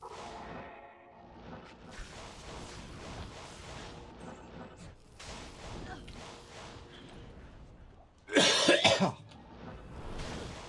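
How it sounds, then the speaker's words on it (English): A person coughing during a gaming session, with a rough burst of coughs rising out of a noisy background of game sounds and murmuring voice. "I don't know why I sit down and start coughing."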